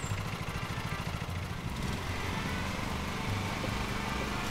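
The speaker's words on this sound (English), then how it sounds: "Guess back to mowing the lawn." Riding lawn mower engine in a lawn mowing simulator game, a steady quiet mid-pitched drone with a pulsing idle rhythm at first, then settling into an even hum.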